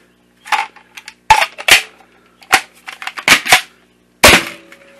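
A GL-06 Crazy Shark foam grenade launcher, a Nerf-style blaster firing 40 mm foam grenades as a triple shot, pops sharply about seven times in irregular bursts, loud and close with quiet gaps between.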